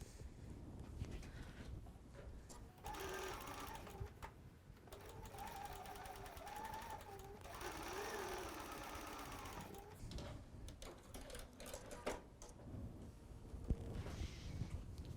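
A sewing machine stitches a quilt block seam in quick, close bursts of rapid mechanical whirring, with short pauses between runs and faint fabric handling around them.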